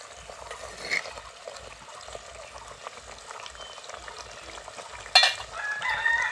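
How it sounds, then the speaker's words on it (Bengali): Chicken stirring and simmering in a clay pot, a quiet bubbling sizzle with occasional scraping, a sharp clatter near the end, and a faint rooster crow earlier in the background. "তো খুব ভালো করে আরও বেশ কিছুক্ষণ ধরে আমি চিকেনটাকে কষিয়ে নেব।"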